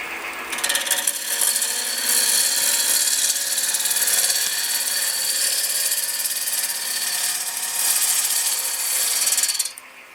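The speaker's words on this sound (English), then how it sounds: "start the lathe and then turn it up to a safe speed. Tool on the tool rest and I just pull along" A wood lathe turns an ash hollow form while a tool makes a pull cut, producing a loud, close, continuous scraping hiss that runs steadily for nearly ten seconds before cutting off abruptly.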